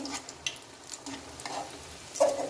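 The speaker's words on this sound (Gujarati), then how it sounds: "આ જ રીતના આપણે બટાકાની બધી પૂરી તળી લઈએ" Potato puris deep frying in hot oil, a steady bubbling sizzle close by with light stirring scrapes and a few brief clinks, no voices.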